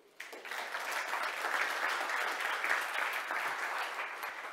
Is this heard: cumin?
no